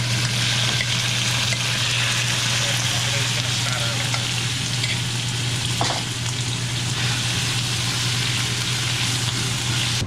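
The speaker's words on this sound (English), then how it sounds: "Ooh, listen to that sizzle." Chicken sizzles and crackles in a hot frying pan in an RV, a constant bright hiss with a low steady hum underneath and a faint clink partway through.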